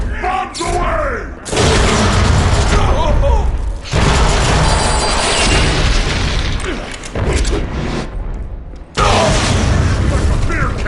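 Bombs explode in the Deadpool video game, a dense roar of booming blasts that fills most of the stretch, loud and close, with brief gaps between heavy bursts and game voices mixed in.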